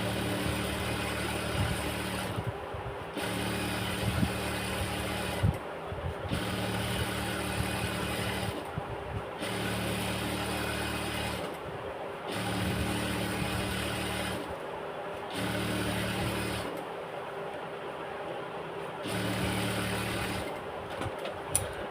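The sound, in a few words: sewing machine stitching elastic waistband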